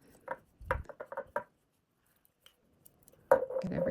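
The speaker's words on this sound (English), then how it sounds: "So right now we're just going to take this and scrape the sides down" Utensil scraping the inside walls of a sourdough starter jar, a few short close scrapes and taps, then a louder, denser scraping burst toward the end.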